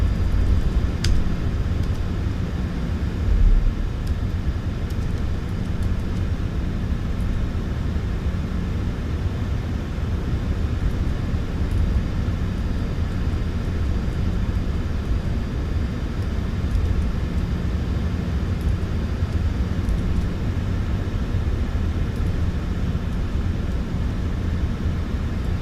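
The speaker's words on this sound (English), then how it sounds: "Shutting the aircraft down." A new factory-fresh airplane's engine runs steadily before shutdown, a constant loud low drone and rumble heard from inside or nearby, unchanging across the whole stretch with no voices.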